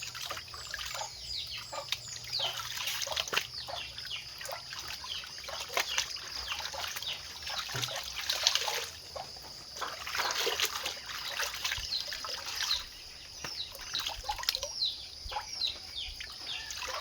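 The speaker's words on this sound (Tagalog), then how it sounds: "sayo maning agas ang tubig" Tap water trickling and splashing steadily while laundry is being washed by hand, with faint bird calls in the background and no talking.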